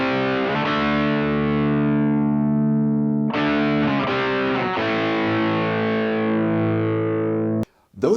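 Lightly overdriven electric guitar through a Blackstar Silverline Deluxe 100 amp, dry with no effects and EQ set near noon; a held chord decays, then fresh strummed chords ring out loud and close before stopping abruptly.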